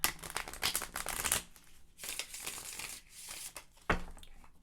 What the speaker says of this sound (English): I hope the noise of the card shuffling isn't too loud for you